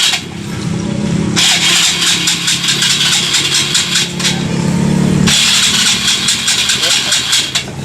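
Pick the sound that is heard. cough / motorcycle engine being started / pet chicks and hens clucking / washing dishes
motorcycle engine being started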